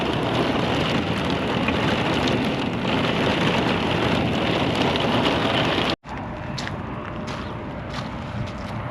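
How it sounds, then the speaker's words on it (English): Heavy rain pours down in a dense, constant hiss, briefly cutting out before continuing slightly softer, with no voices. "now it just looks like it's raining"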